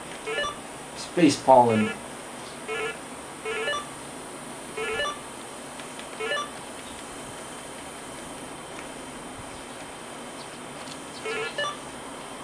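Short electronic beeps from a real PC speaker beeper playing an MS-DOS program, a brief rising tone burst followed by sparse, evenly spaced blips over steady background hiss, with a voice talking.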